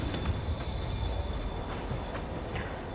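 Subway train pulling into a platform in Marvel's Spider-Man video game: a dense rumble of rolling wheels with thin metallic squeals and periodic clatter, steady and close throughout, no talking.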